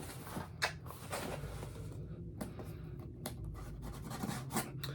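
A blade cuts through the tape on a subscription box, heard as close scratchy slices and soft scraping strokes in short bursts, fairly quiet, with no talking.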